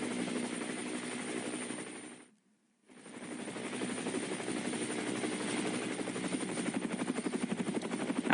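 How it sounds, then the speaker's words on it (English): A helicopter filming a stage of the Tour of Saudi Arabia cycling race thrums with a fast rotor chop, fairly faint, dropping out briefly to silence before returning and growing slightly stronger. "Our helicopter's gone ahead of the race here"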